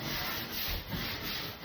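Close, rhythmic rubbing of a scrubber on a surface crusted with hard-water calcium, a rough swishing that pulses in repeated back-and-forth strokes with no talking.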